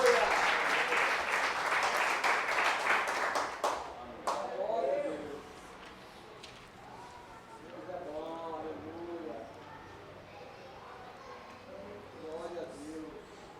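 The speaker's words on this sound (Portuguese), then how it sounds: "Uma salva de palmas para Jesus." A church congregation gives a burst of dense, lively clapping for about four seconds, which then fades as a man resumes preaching.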